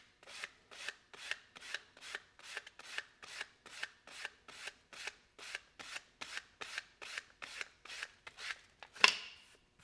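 Leather on a snakeskin wallet is sanded in steady back-and-forth rasping strokes, about two per second and close up, ending with one louder scrape.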